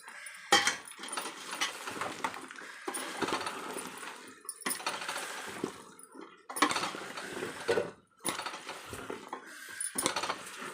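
A spoon stirring bottle gourd dal, a Telangana sambar, in a cooking pot: intermittent metallic scrapes and clinks in several separate strokes, close and fairly clear, with wet sloshing between them and no voice.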